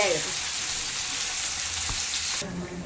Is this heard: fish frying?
yes